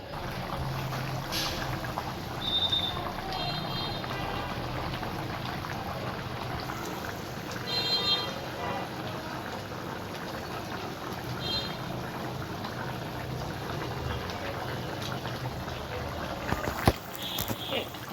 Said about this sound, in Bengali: ঝোলের জন্য জল দিয়েছি এটা ভালো করে ফুটে উঠবে